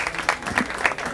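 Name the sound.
audience applause at award ceremony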